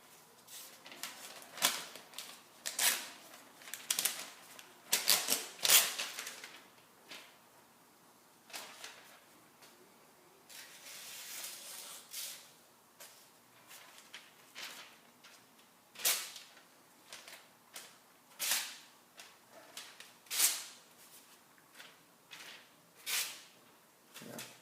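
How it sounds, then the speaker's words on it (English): A Spyderco Gayle Bradley knife slices through glued phone book paper, giving a series of short, crisp cutting and tearing swipes in irregular bursts, fairly close and clear, with no talking. "Even with a little bit of glue on there, still cutting phone book paper, no problem."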